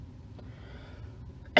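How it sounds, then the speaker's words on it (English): A single sharp cough near the end, preceded by quiet breathing and faint background hum. "I'm not sure if this cough is from the cold, probably"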